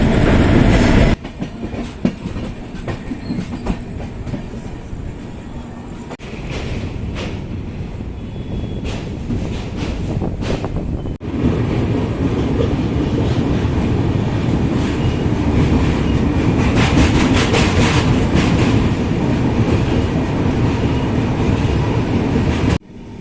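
Prashanti Express passenger train running on rails, a loud continuous rumble with rhythmic clickety-clack of wheels over joints and intermittent metallic rattles throughout.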